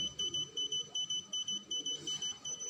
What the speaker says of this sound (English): I've picked the signal, it's beeping